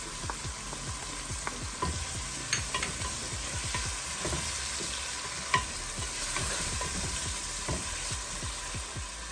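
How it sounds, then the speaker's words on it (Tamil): Ginger garlic paste sizzles steadily in a hot pan while a spoon scrapes and stirs it in repeated quick strokes, close and continuous with no talking. "இப்போ நம்ம இஞ்சி பூண்டு பேஸ்ட்"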